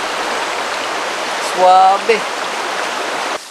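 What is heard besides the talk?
river flowing beside campsite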